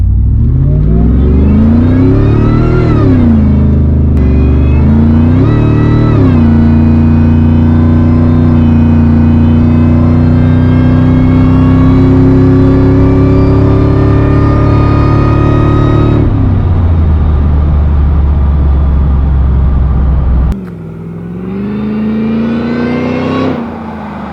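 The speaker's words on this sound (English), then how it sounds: "the whine on this thing is part of my favorite thing about this" A modified truck's supercharger whines loudly under hard acceleration, a rising tonal scream layered over engine roar across several gear pulls, with brief drops between shifts and a final rev.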